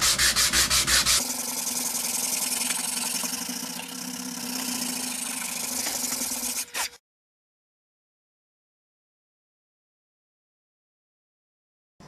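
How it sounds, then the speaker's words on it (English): An electric guitar body is sanded with 220 grit sandpaper, producing a harsh, continuous rasping scrub for about seven seconds, loud and close, then abrupt silence. "I'll go ahead and switch to some 220 grit and just give this a nice final go at"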